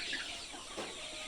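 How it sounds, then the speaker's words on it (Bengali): Chickens cluck on a poultry farm, heard faintly in a brief snatch of barn ambience with a soft, high call near the start. "এখানে দেখতে পাচ্ছেন যে মুরগির বাচ্চাগুলো আছে"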